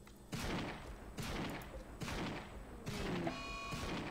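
Several sharp volleys of gunfire from colonists in the colony-building game Rimworld, four bursts spaced about a second apart with ringing tails between, fairly close and without talk.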